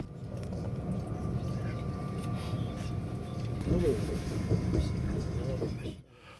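Sapsan high-speed train running between Moscow and Saint Petersburg, a continuous low rumble of the carriage with mechanical rattles that fades out at the end.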